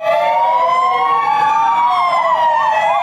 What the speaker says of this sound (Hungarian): A 150 éves évforduló tiszteletére a tűzoltók szirénázva vonultak tovább az egykori tűzoltó laktanya épületéhez.